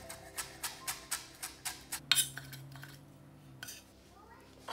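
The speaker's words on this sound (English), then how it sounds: "I'm gonna go ahead and chop the cilantro" Knife chopping cilantro on a cutting board for guacamole, about nine brisk, evenly spaced thuds close by, then a brief clatter and quieter scraping as the chopping stops.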